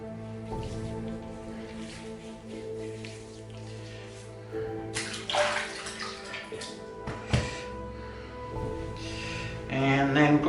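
Water splashes and drips as a face is re-wet with the hands during a wet shave, with a louder burst of splashing partway through and smaller wet sounds around it, close up.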